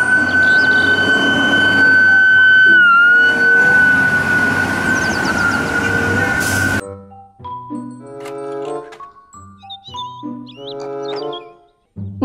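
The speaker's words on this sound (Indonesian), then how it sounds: "Mobil, truk, pemadam kebakaran." A toy fire truck sounds a steady, loud electronic siren tone that dips briefly in pitch. It cuts off abruptly and gives way to a bright toy melody of separate notes.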